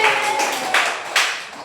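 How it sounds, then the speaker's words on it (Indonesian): Classroom applause for a student named Putri, a short burst of hand clapping with a few sharper claps standing out, fairly close and loud with no talk over it. "tepuk tangan untuk Putri"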